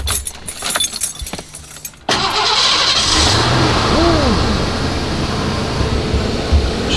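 Keys jangle and click in the ignition of a 1989 Lincoln Town Car, then the engine cranks and catches abruptly, settling into a loud, steady close idle with a brief rev.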